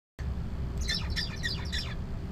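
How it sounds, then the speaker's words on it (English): Zebra finch song in a lab setting: a quick series of bright, chirpy syllables repeated in a short phrase over a steady low background hum, close and clear. "zebra finches lend themselves to being studied in the lab"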